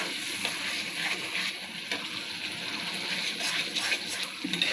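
Spice paste frying in oil for a Bengali-style Shankar fish curry, a steady close sizzle and hiss that holds evenly throughout with no voices.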